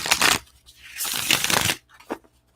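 A deck of tarot cards is shuffled up close in a few quick riffling bursts, a long rustle in the middle and a short flick at the end, with no talking.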